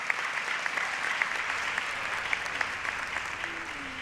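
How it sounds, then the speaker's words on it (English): Audience applause at a dual enrollment recognition ceremony, steady crowd clapping with distinct individual claps standing out, sustained evenly throughout. "You may applaud, please do."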